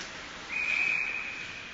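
A referee's whistle at a girls' high school ice hockey game, one steady shrill blast of about half a second, moderately loud over a faint rink ambience.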